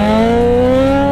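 Honda CB1000 motorcycle engine pulling hard under acceleration, a loud, close, steady harmonic roar with pitch rising gradually through the whole short burst, no voices.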